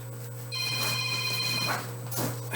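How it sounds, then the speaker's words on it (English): A telephone rings indoors with a bright electronic trill in one burst, a short pause, then the start of a second ring over a low steady hum. "and the phone rings"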